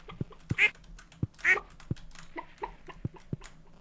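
Farm fowl in the Stardew Valley video game, short quacking calls over a soft repeating game tone of regular low thumps, moderately faint with a quiet background.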